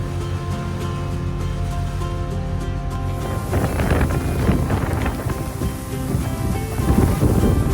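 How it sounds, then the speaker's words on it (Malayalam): A loud, steady roar of heavy monsoon rain mixed with gusting wind at Alappuzha, Kerala, growing denser and louder after the first few seconds, with no voices. "ഇപ്പം നല്ല മഴയാണ്."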